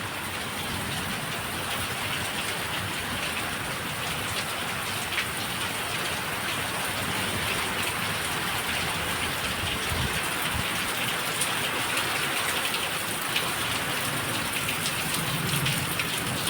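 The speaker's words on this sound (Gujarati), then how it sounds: "અત્યારે વરસાદ થોડો આવે છે" Heavy rain driven by wind pours down in a dense, unbroken roar of drops on surfaces, steady and loud from start to finish with no voices.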